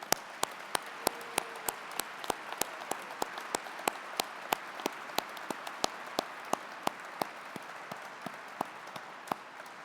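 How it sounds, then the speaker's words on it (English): Applause from a gala audience honoring aerospace award winners, a steady wash of many hands clapping at moderate distance with crisp individual claps standing out, sustained for about ten seconds with no talking. "Please join me in a final round of applause for all our premier award winners."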